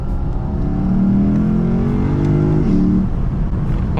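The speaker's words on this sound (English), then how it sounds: "But even the induction noise stock sounds pretty good, look." A stock engine in the car replacing a Mercedes C63 revs up, its intake induction roar climbing in pitch and holding loud and close before easing back, with no talking.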